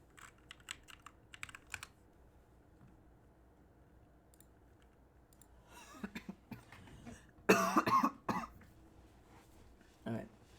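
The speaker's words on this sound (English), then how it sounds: "Coughing a lot." Indoors at a computer, a person gives a few harsh coughs and throat clears, loud and close, after a stretch of quiet keyboard typing and clicking, with a little speech nearby.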